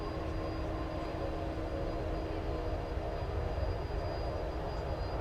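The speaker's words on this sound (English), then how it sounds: "So there's the A350 off to Doha" A Qatar Airways Airbus A350 takes off at night from DFW Airport bound for Doha, heard as a faint, distant, steady jet-engine roar with no talk.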